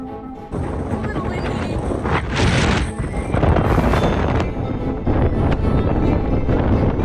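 Strong gusts of wind roar and buffet outdoors in Big Bend National Park, sustained and loud with a few heavier blasts.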